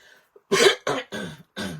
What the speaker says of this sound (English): Get a little cough, a little tickle.